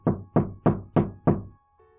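Five heavy, evenly spaced knocks on a door sound loud and close, each hollow thud ringing briefly before the next, then a faint tonal hum lingers after the last knock.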